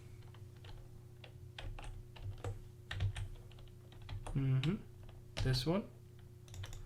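Computer keyboard typing, irregular key clicks scattered across a few seconds during a coding session, with a person speaking briefly over the keystrokes.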